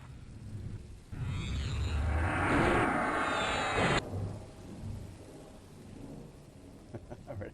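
A thunderstorm in the EverQuest game rolls through as a loud burst of thunder and hissing rain. The crash swells, then cuts off abruptly and leaves a softer rumble and faint patter.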